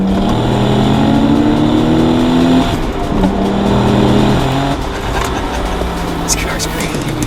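A 1994 Toyota Soarer with a turbocharged 1JZ-GTE engine launches off a brake boost, revving hard and accelerating loudly up close, the roar climbing in pitch through gear changes.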